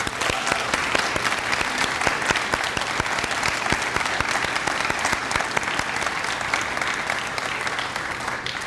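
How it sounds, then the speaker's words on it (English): Sustained audience applause at a staff awards ceremony honoring an academic advisor, dense steady clapping from a large crowd lasting the whole stretch at an even, fairly loud level. "a massive round of applause for Barbara Howard"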